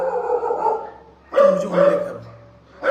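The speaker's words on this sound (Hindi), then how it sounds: "देखो मेरा कुत्ता भी भौंक रहा है." Pet dog barking indoors at night, a couple of close, loud barks after a quieter stretch, with someone speaking briefly alongside.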